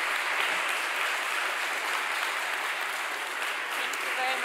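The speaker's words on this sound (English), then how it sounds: "So a big, big applause for the talk you gave to us." Audience applause after a reading and conversation with an author: a dense, even wash of clapping, loud and continuous throughout, with no voices standing out.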